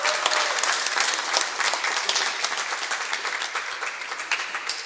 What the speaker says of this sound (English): let's give a round of applause to Karen Country Club